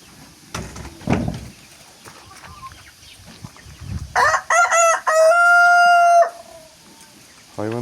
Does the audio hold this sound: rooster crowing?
yes